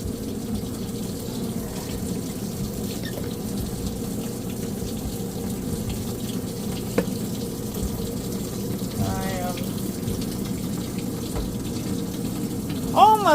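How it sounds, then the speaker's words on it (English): A washing machine fills with water in a home laundry, giving a steady moderate rushing and hissing flow with a low hum that runs throughout, broken by a few faint clicks and brief squeaks near the end. "Now we've got enough laundry soap, and we'll let this fill up and get some more laundry going."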